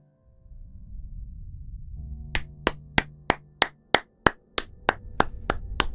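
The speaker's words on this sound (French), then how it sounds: "On peut applaudir." About a dozen sharp, evenly spaced claps ring out as in-game applause in Dishonored, over a low background hum, starting after a quiet stretch and continuing steadily to the end.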